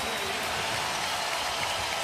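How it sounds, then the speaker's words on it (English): A basketball arena crowd roars in a sustained, steady wash of cheering and applause after a block in a Magic versus Lakers game, loud and continuous throughout. "he gets a huge ovation from the crowd"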